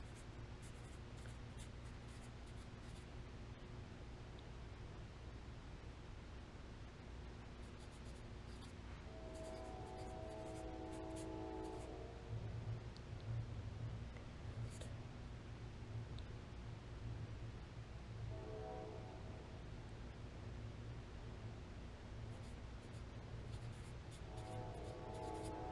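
Marker pen scratching and gliding across paper in a prayer journal, soft and close with steady strokes under a constant background hum, no talk.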